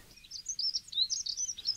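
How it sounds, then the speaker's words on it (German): A dunnock sings in a garden, a quick, thin warbling phrase of high twittering notes running for well over a second, moderately faint and heard alone. "Weniger auffällig singen die Heckenbraunellen"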